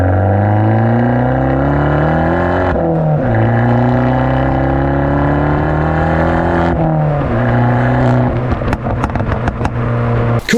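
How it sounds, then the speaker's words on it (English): An Abarth with an IHI turbo and Ragazzon stainless steel exhaust revs loudly and close by, engine note rising and falling through several pulls, ending in sharp pops and crackles. "The exhaust is a Ragazon exhaust all the way throughout"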